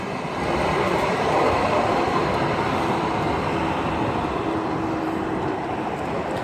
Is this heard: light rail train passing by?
yes